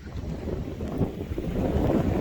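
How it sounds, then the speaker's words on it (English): Strong gale-force wind on the Zambezi River roars steadily across the microphone, a dense low rumble that swells slightly louder toward the end, with no voices. "It's gale force winds out here on the Zambezi River right now."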